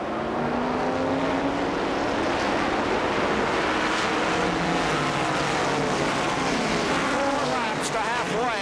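Stock cars racing at the 1981 Daytona 500, a loud continuous roar of many engines passing with sweeping pitch changes as the field gets back underway, no talk.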